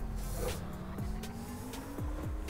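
An electric Tesla Cybertruck pulls away in the City Car Driving game on a winter road, a steady whine rising in pitch over a low rumble, with short tyre-like chirps and faint mechanical squeaks, no talking.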